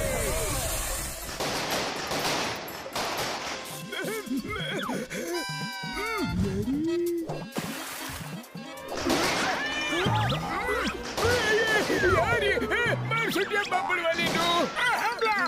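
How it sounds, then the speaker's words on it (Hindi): Fireworks burst in a cartoon movie, sharp bangs and crackles mixed with animated voices shouting, a whinnying horse, music and whistling effects, growing louder and busier toward the end. "यहाँ सामने आतिशबाजी हो रही है।"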